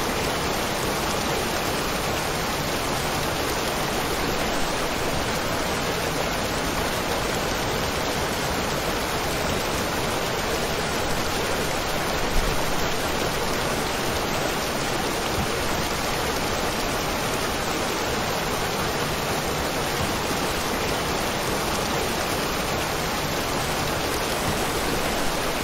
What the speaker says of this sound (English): And this waterfall's fucking loud.